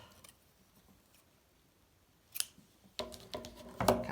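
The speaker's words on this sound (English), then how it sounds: "Cut the yarn" Crochet yarn snipped with scissors: a quiet pause, then a few sharp, close metallic snips and clicks of the blades closing near the end.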